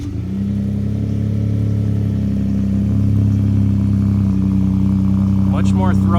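A 2016 Ford F150 with the 2.7L EcoBoost engine idles through a 3-inch exhaust with a Magnaflow muffler and the resonator deleted, giving a loud, steady, deep throaty drone up close; a voice briefly speaks near the end.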